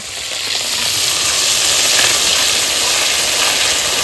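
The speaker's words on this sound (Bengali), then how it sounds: "এইবার আমি তেজপাতা ফোড়ন দিয়ে দিচ্ছি লবঙ্গ এলাচ দারচিনি ফোড়ন দিয়ে দিচ্ছি" Bay leaf, cloves, cardamom, cinnamon and ginger paste sizzle steadily in hot oil, a loud, close, continuous frying hiss that holds even from start to end with no voices.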